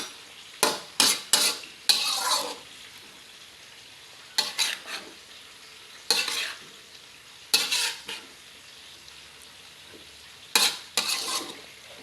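Ground pork stir-fried in a pan while cooking tongue, with sharp, repeated bursts of scraping and stirring over a faint sizzle, coming in irregular clusters with short pauses between.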